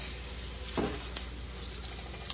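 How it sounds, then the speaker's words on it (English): A beef roast sears in a hot pan with a steady, even sizzle and hiss, continuous and close, broken by a couple of faint clicks and a brief soft rustle. "We're going to get it seared kind of on both sides with some crust on it a little bit."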